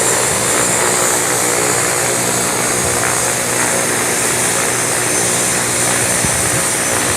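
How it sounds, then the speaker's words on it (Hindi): A Tara Air propeller plane at Lukla Airport fills the scene with a loud, steady engine and propeller drone, a broad roar with tonal hum that holds constant throughout without any voices. "तारा एयर आ गई है, 3 आ गए हैं, इनमें से अभी एक शायद टेक ऑफ करेगा यहाँ से"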